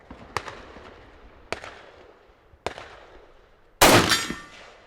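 Beretta ARX100 rifle with a 3x optic firing at a steel popper target 100 yards out: three sharp, evenly spaced cracks about a second apart, then a louder, longer blast near the end.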